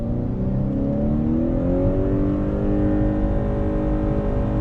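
A 2020 Honda CR-V Hybrid pulls away from a stop under throttle, its engine droning loudly and rising steadily in pitch through the whole stretch, heard from inside the cabin with no talking.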